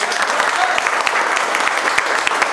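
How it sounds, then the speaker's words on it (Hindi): Students in a mobile repair training classroom applaud loudly, a dense burst of many hands clapping in quick, uneven rhythm that carries on steadily, close and bright. "उनके लिए जोरदार ताली दे दो।"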